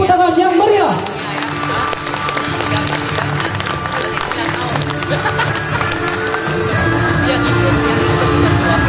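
Audience applause at the opening ceremony of a regional arts gathering in the Riau Islands, following the return of a rotating championship trophy; dense, sustained clapping from a large crowd fills the whole stretch at a steady, loud level.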